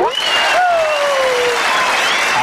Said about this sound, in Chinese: 大家一起拍拍手